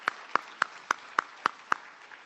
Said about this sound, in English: please help me giving a big round of applause to Dr. Boyer